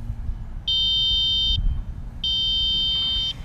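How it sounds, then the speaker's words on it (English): Horn of a Flash V1 electric bike gives two loud, steady electronic beeps, each about a second long, over low rumbling background noise. "let's just listen to the horn real quick"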